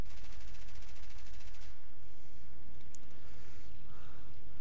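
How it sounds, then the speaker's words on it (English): Rapid aircraft machine-gun fire in the World of Warplanes video game, a fast rattling burst strafing a ground target that stops abruptly, followed by engine noise and a brief sharp click. "Just wasting time shooting at the little thing on the ground."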